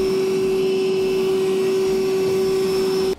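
A vacuum cleaner sucks up metal shavings in a pickup truck bed after a hole is cut for a Curt gooseneck hitch, droning loud and steady with a strong hum throughout, then cutting off abruptly at the end.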